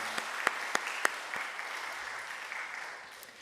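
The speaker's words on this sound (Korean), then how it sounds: "우리 찬양대원들 위해서 감사와 격려의 박수 한번 할까요" Applause from a church congregation in a large room at a Sunday service, a few sharp claps at first, then steady clapping that gradually fades.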